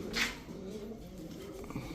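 A large female pigeon, offered among racer and Pakistani breeds at a sale, gives soft low cooing, with a brief brighter burst at the start and a faint, steady murmur after it.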